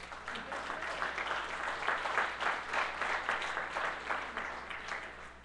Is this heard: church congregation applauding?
yes